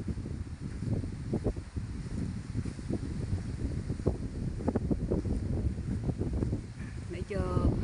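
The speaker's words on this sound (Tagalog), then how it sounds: "Lakas ang hangin." Strong gusting wind buffets the microphone near a mangrove shoreline on a dark overcast day, a steady loud rumble with rustling and brief clattering bursts throughout.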